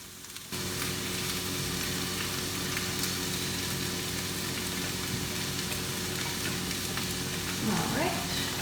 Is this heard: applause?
no